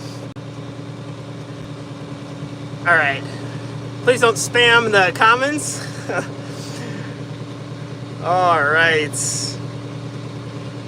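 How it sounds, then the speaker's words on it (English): A John Deere 3688 tractor engine idles steadily at a hay field on a hot day, a low constant hum running under a man's speech throughout. "It's a 3688 tractor."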